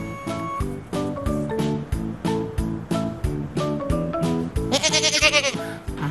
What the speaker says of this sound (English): I think that's a goat.